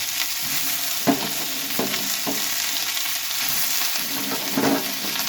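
Onion stalks frying in a pan, a steady broad sizzle with several soft scraping stirs of the spatula breaking through, close and continuous with no voices.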